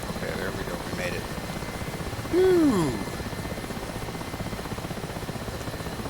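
Mi-8 helicopter in DCS World flying with one engine out: a steady, close rotor and turbine drone runs throughout, with a man briefly exhaling a relieved word partway through.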